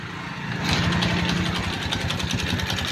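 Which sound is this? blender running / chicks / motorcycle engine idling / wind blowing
motorcycle engine idling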